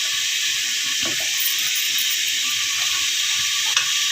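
Grated coconut roasting in a little oil in a pan while making vegetable sambar, a steady soft sizzle with faint stirring scrapes, close and continuous.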